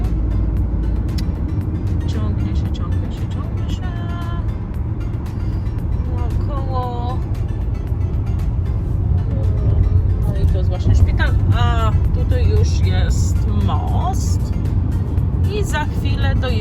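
Steady engine and road rumble from inside a moving car in a small Florida town, continuous and fairly loud throughout, with people talking over it.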